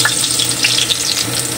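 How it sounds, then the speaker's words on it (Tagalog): Garlic sautés in hot oil, a loud close crackling sizzle that holds steady for a moment with no voices. "gigisin na natin yung mga sangkap natin. Unahin natin yung bawang."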